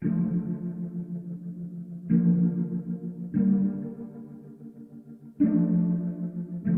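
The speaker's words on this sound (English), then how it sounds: "I added a Valhalla room reverb just to add a bit of reverb" Sustained synth chords with a lush Valhalla room reverb tail, struck four times at uneven intervals, each note ringing and slowly fading.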